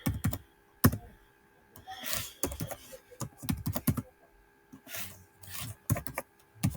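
Fingers type on a computer keyboard in quick, uneven bursts of crisp clicks and key taps, close and clear, with short pauses between runs.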